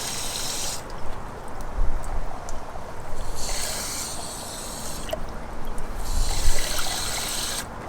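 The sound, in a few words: water being poured into a Chevy C/K1500 radiator to refill it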